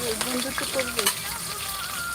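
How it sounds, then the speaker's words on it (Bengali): Onions sizzle and crackle steadily in hot oil, with a few soft stirring scrapes over the constant frying hiss. "এখন পেঁয়াজটা ভেজে নিবে"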